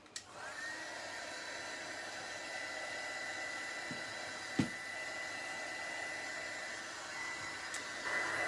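Heat tool blowing hot air to dry an altered rustic bottle craft piece, a steady close whirring hiss running without a break, with a couple of faint knocks.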